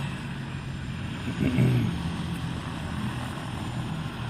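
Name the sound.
medical helicopter rotor after landing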